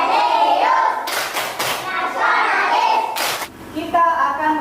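A class of children claps along in a rhythmic hand-clap routine, with bursts of sharp claps and thuds mixed with young voices chanting and a teacher's voice nearby.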